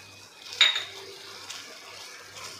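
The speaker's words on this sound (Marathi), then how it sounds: "आता यामध्ये आपल्याला अगदी 2 चमचे पाणी घालायचं आहे" A spoon clinks against a pan as two spoonfuls of water go into a paneer gravy, giving one bright metallic tap followed by faint liquid and stirring sounds with low background hum.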